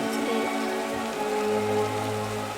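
Steady rain falls without a break in a video game, a dense even hiss of drops on a surface with a faint low tonal hum beneath it.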